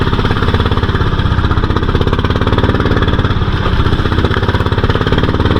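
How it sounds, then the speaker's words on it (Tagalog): A fishing boat engine sputters and chugs out on choppy sea, a loud, continuous rough mechanical pulsing that fills the whole stretch with no voices. "Makina pa, bugak-bugak na naman oh."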